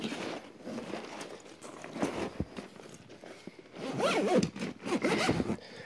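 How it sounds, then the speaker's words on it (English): Zipper on a black 200 cm Dakine Concourse double ski bag being pulled closed, a series of close, scratchy zipping strokes with fabric rustling and handling noises between them. "I'm gonna zip the bag closed real quick."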